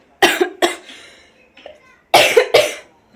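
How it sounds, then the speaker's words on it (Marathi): A woman coughs in two pairs of sharp, harsh bursts with a brief throaty sound between them, close and loud in a quiet room. "हा खोकला लय लागला मला"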